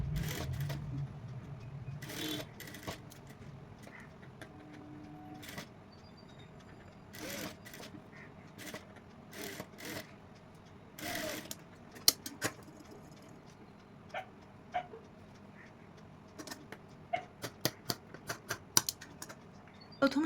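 A sewing machine stitches a neck band onto a baby frock in short, separate bursts with quiet gaps between them. Light clicks and handling noises come between runs, and the room stays fairly quiet.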